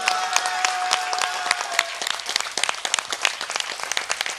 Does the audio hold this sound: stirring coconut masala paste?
no